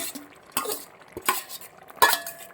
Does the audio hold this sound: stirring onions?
yes